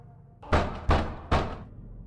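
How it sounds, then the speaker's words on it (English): Three heavy knocks on a door in a horror video game, evenly spaced, loud and close, each a deep thudding blow with a short decay, alone over near silence. "it's interrupted by the sound of knocking"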